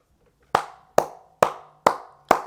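Five sharp, evenly spaced hand claps ring out close and loud, each with a short room decay, a slow deliberate round of applause for a Miami social media department.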